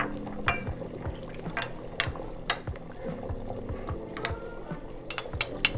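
Water is poured into wheat flour to thin it into a paste for beef nihari, making a quiet trickle scattered with light taps and clicks from the bowl.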